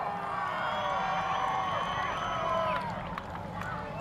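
A crowd at a D1NZ pro drifting championship event in Wellington roars and cheers for a driver, a continuous loud wash of voices with some whoops throughout.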